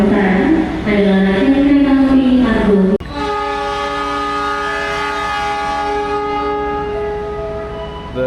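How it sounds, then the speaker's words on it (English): An Argo Wilis passenger train departs Yogyakarta station, its horn sounding first as a low wavering blast, then a long, loud, steady tonal horn note carrying on over a continuous rumble of the train. "The train's about to leave from Yogyakarta here."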